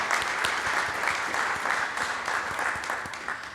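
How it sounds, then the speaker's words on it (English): Steady applause from an audience at an athletics brunch greeting a keynote speaker, dense overlapping clapping that holds an even level throughout with no voices on top. "So big round of applause."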